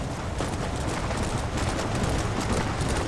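Rapid clip-clop of horse hooves galloping at a steady pace in the video game Red Dead Redemption, dense and continuous, loud and close.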